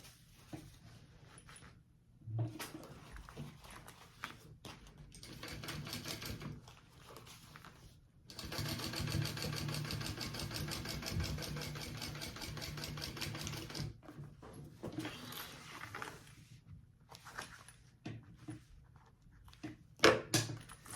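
A sewing machine top stitching along the bottom gusset of a sling bag runs in several bursts, with a long steady stretch of rapid needle clatter in the middle and quieter handling noises between runs.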